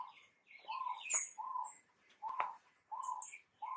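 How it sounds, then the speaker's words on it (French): A bird sings outdoors in a steady pattern of repeated short, mellow phrases with brief pauses between them, fairly close and clear over a quiet background, with a few higher chirps and no talking. "C'est l'oiseau qui chante"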